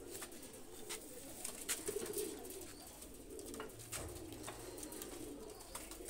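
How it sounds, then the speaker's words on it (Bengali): A pair of Omani pigeons, just released, coo softly in low repeated murmurs, faint and close against quiet background noise. "দুইটা কবুতর আমি ছেড়ে দেখাচ্ছি।"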